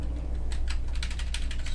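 Rapid keystrokes on a computer keyboard being tested during in-person tech support, a run of close, crisp clicks in uneven bursts over a low steady room hum, with no voices.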